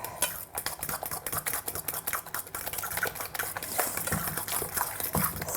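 A spoon stirs gluten-free pumpkin pancake batter in a bowl, giving steady, close, rapid scraping and clinking strokes that continue without pause.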